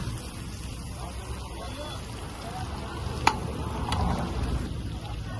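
Soft scraping and sizzling as pav bhaji vegetables are stirred in melting butter in a pan, a steady low frying hiss with a couple of brief clinks of the spoon.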